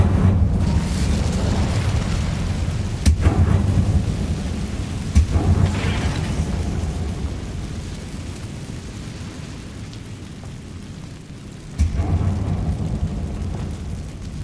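Incendio fire spell cast in Hogwarts Legacy, a loud whooshing burst with booming flares over a dense, rumbling game soundscape, with sharper bursts recurring through the stretch.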